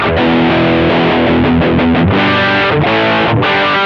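An electric guitar played through a Shark Rock You Drive distortion pedal, the TeTae Rock You signature model, chugs out dense, loud, saturated chords and riffs with no gaps and no voice over it.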